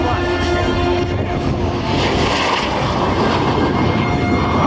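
A straight-winged jet with big fuel drop tanks, a type that set a 623 mph world speed record in 1947, making a low, fast pass at the Hangar 24 AirFest 2018: a loud, steady, broadband roar throughout.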